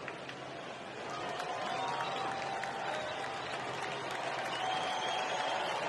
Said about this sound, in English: Crowd trying to jump back in.